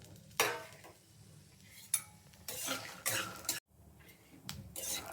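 Peanuts, dried red chillies and coriander seeds roasting in a little oil in a pan, quiet scattered bursts of stirring and scraping with soft rattling, faint and close.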